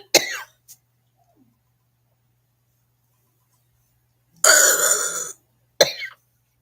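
A woman coughs in three harsh, raspy bursts: a short one at the start, a longer hacking fit after a pause of several seconds, then a brief final cough. The coughs are close and loud, with silence between them.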